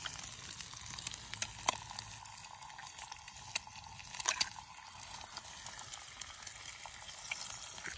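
An egg sizzles and fries on a Lord & Field swinging bushcraft grill over an outdoor fire, a steady soft crackle with occasional sharper pops, faint and continuous with no talking.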